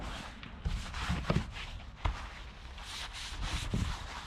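A brush scrubbing the dirty body of an old abandoned car after foaming, producing a continuous close, gritty bristle scrub with a few heavier knocks and strokes throughout.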